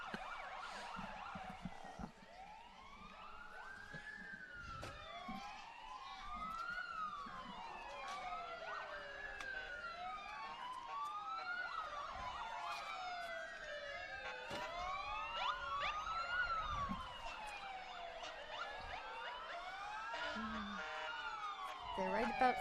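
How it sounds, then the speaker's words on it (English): Several emergency vehicle sirens wail together at a Memorial Day parade in Peabody, Massachusetts. Their rising and falling tones overlap continuously and stay fairly loud and close throughout. "this is one time you don't mind hearing the sirens"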